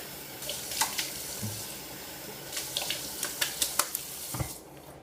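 A silvertip shaving brush is rinsed under a running tap, water streaming steadily into a sink with a few soft splashes and knocks, close by and without speech.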